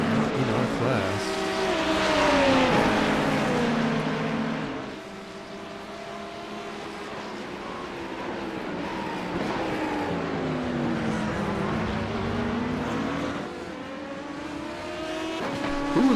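Race car engines whine and roar under a dark night race in iRacing, with a hyper-powered Porsche GTP prototype closing from behind; engine pitch sweeps up and down as cars pass and brake, a steady loud drone throughout.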